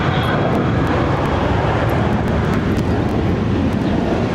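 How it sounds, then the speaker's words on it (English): Avianca Dash 8 turboprop airliner passing at Barcelona airport, a steady loud roar of engine and rushing air throughout with no speech. "Of course, it's a Dash 8. Avianca only has Dash 8."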